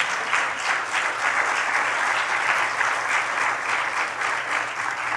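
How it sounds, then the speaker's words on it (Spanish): A church congregation claps together during a sermon, a dense, steady burst of applause lasting about five seconds, fairly loud and uniform, with no speech over it. "Dele un aplauso pues."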